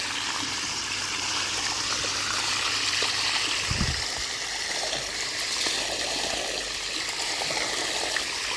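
Water splashing steadily from the return nozzle of an above-ground frame pool, a continuous close, even trickling gush with no speech over it.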